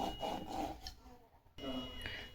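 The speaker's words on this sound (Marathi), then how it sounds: "आता आपण हे पातळ लाटून घेऊ." A rolling pin rolls samosa stick dough out thin, making close, soft wooden rubbing strokes in two passes with a short pause between them.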